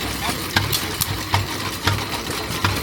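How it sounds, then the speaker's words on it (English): A Fairbanks Morse 2 horsepower Z antique stationary engine runs at a fair, giving a steady low chug with regular sharp firing knocks about every half second over a noisy crowd background. "This one is the Fairbanks Morse 2 horsepower Z. It's got a different noise."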